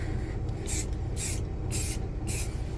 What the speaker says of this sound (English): Let's just test the can.